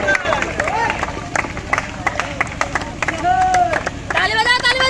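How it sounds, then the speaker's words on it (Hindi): A crowd claps along at a village cricket final match in Dinara, Rohtas, with scattered sharp claps and hubbub running under a loud announcer's voice throughout. "ताली बजाओ, ताली बजाओ।"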